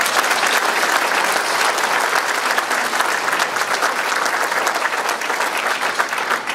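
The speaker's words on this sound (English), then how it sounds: "Give them a round of applause, please." Sustained, dense applause from the audience at a mayor's State of the City address before the Regina & District Chamber of Commerce, steady and loud for the whole stretch with no speech over it.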